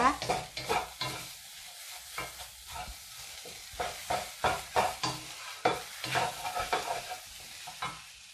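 Food stir-fried in a pan at home until cooked, with repeated scraping and stirring strokes over a steady sizzle that carries on throughout, close and moderately loud, with no talking.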